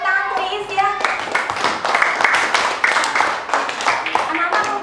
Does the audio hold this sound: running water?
no